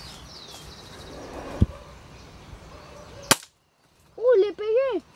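Compressed-air rifle fired while hunting doves outdoors gives a single sharp crack near the middle and a second snap later, set against wind and open-air background, followed by a short spoken exchange.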